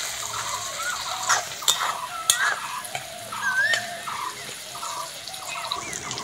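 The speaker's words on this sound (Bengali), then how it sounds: "টমেটোটা হালকা করে ভেজে নিয়েছি" Onion and tomato frying in a pan for mutton curry, with soft sizzling and intermittent scraping stirs, a few sharp utensil clicks cutting through at steady, moderate loudness.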